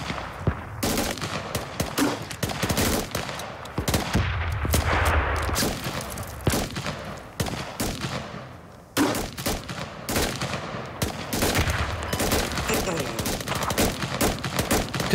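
Sustained automatic machine gun fire from light machine guns in the military shooter game SQUAD, long dense bursts rattling almost continuously for the whole stretch, loud and close with scattered distant shots, while voices talk over the gunfire.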